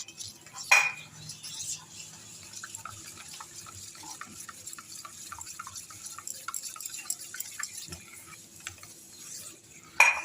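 Custard powder being stirred into a liquid mixture for a sweet bread dessert, soft continuous swishing and faint clinks of a spoon in a bowl, quiet and close, with a sharper knock near the start and end.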